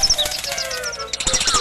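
Birds flying in a Doraemon cartoon, with light wing flutters and high chirps over a continuous musical score.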